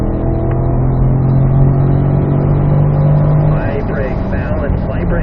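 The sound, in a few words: Corvette engine accelerating on race track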